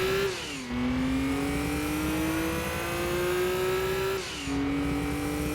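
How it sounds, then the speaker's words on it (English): A turbocharged car engine in the racing game Gran Turismo 2 on PlayStation revs steadily and climbs in pitch, drops briefly on a gear change, then climbs again, loud and alone. "Listen to that turbo."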